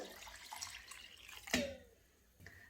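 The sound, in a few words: cold water being poured into pot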